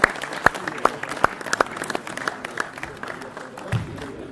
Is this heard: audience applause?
yes